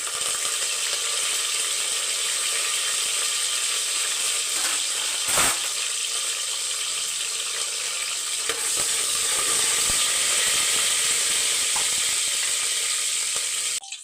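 Green chilies and curry leaves hit hot oil already crackling with fennel seeds, producing an intense, steady sizzle that holds strong throughout, with a few faint clicks and scrapes and no talking.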